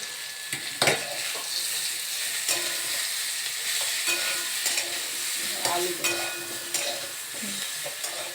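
Prawn and pumpkin curry fries in a pan, a steady soft sizzle under repeated spatula scrapes and stirring, with a sharper clatter near the start, close by and without talk.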